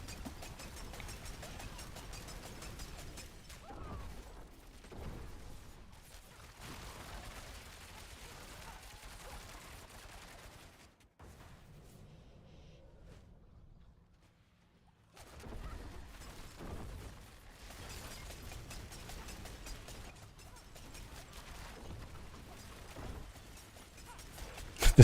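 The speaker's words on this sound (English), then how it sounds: "This smoke grenade spam is kind of funny, man" Smoke grenades are thrown again and again in Diablo 4, producing clustered popping bursts and mechanical clatter in busy stretches broken by a quiet gap midway.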